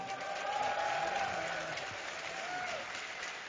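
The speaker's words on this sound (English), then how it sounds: "anybody out there cheering for Vortex?" An audience at a live gaming event applauds and cheers in a steady, distant roar of clapping, with a faint tonal whoop rising briefly partway through.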